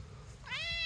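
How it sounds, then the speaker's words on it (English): In a backyard farm in early spring, a cat gives one clear, rising meow close by, starting after a brief quiet moment. "And the cat is still following me."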